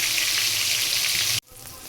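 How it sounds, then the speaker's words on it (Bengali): A hilsa fish head fries in hot oil with a steady, bright crackling sizzle that stops abruptly, then a fainter sizzle continues. "সেজন্য মাথাটা আগে আমি ভালো করে ভেজে নেব।"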